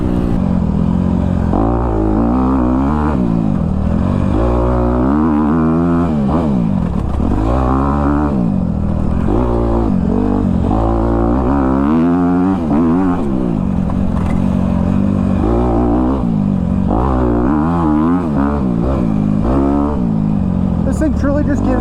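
Honda CRF250R four-stroke dirt bike being ridden, its engine loud and close, revving up and down in repeated rising and falling surges throughout.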